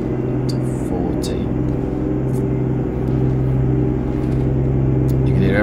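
A Mack truck with an EM6 engine and five-speed transmission in American Truck Simulator accelerates gradually, giving a steady, loud engine drone and rumble that rises slightly in pitch, with faint clicks above it.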